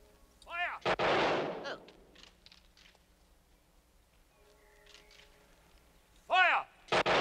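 Two rifle volleys are fired on command in a film scene, each a sharp, loud burst with an echoing tail, a few seconds apart, with short spoken commands between them.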